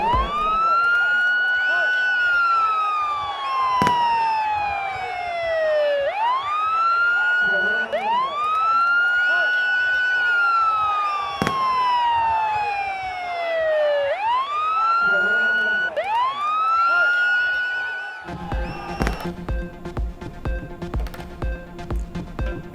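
An ambulance siren wails in repeated rising and falling sweeps amid a large crowd at a political rally, loud and close. It switches to a rapid yelp near the end, with voices faintly beneath.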